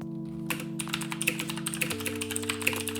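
Fast typing on a Thermaltake Poseidon Z mechanical keyboard with Kailh Blue switches gives dense, crisp clicking over a steady low background hum and tone.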